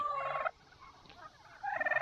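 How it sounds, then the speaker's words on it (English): Older farm turkeys gobble loudly nearby in two rapid bursts, separated by a short quiet pause. "These are some of our older turkeys."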